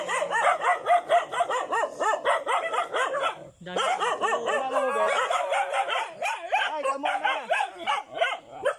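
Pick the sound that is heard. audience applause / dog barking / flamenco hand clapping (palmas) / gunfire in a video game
dog barking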